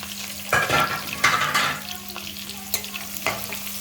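Onion and green chillies fry in a pan for pappucharu, giving a soft sizzle broken by several sharp stirring scrapes and clinks, up close, over a faint steady hum.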